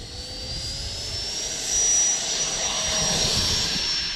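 A fixed-wing airplane engine roars steadily and swells as the aircraft takes off and climbs, a sustained loud drone with a rising whine, alone without talk.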